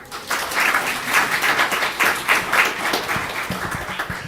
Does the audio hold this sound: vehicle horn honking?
no